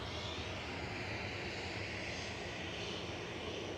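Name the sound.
EasyJet airliner engines as it moves on the runway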